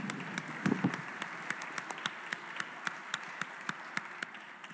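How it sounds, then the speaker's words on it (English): A small group in a legislative house chamber claps sparsely with a few distinct, separate claps that thin out and slow. There is a brief low murmur near the start, and the room is otherwise quiet. "Please give them a round of applause."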